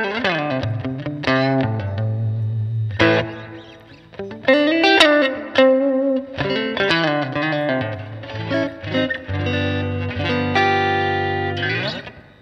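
Fender Custom Shop HSS Post Modern Stratocaster played on its hand-wired neck pickup alone through a Fender Pro Junior amp: loud clean chords and single-note lines with some effects shimmer, steady strumming bursts, no talking.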